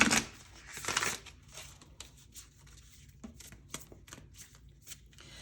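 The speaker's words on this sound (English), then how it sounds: "I want to like riffle shuffle these real quick because they're new and they're still very stiff" A new, stiff deck of Moonology Oracle cards is riffle shuffled, first in a loud burst of fluttering cards, then settling into lighter taps and short crisp riffles, close and alone without speech.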